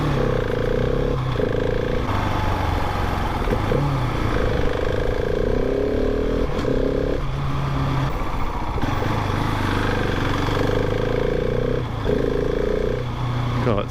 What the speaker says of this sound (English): Yeah, the idle is really high.